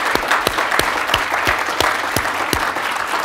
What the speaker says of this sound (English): I would like to give a round of applause to our panelists here.